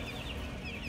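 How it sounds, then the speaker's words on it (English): A one-week-old broiler chick in a chicken house gives faint, high cheeping peeps over a steady hum of the barn, a few short calls close together. "This is a 1 week old chicken."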